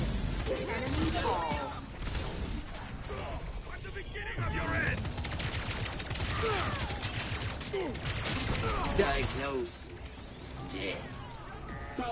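Rapid pistol gunfire from the sci-fi shooter LawBreakers crackles in bursts amid explosions and chaotic battle effects, loud and near, under ongoing talk.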